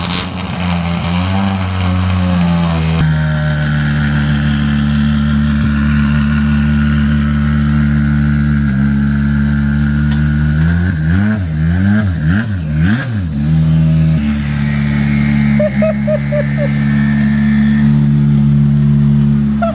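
A car engine in the Assetto Corsa Rally simulator revs steadily and rises and falls through gears as the car is driven in, a continuous loud drone with wavering pitch, no talk.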